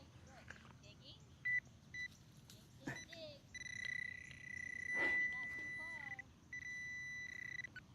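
A metal detector gives a mixed signal during a morning coin hunt, with short electronic beeps and tones warbling in bursts, including a longer sustained tone, over quiet outdoor background noise and faint movement.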